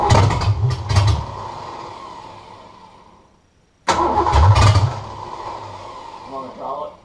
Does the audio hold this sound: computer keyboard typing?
no